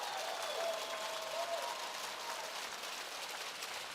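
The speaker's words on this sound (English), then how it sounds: "give them a huge round of applause" Steady, dense applause from a crowd at a live business show, honoring marketing content and production teammates, filling the whole stretch at an even level with a faint tonal hum underneath.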